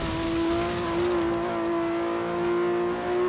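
Steady car engine drone in Forza Horizon 3, a strong sustained tone holding at a constant pitch while the car drives, loud and close with no talking.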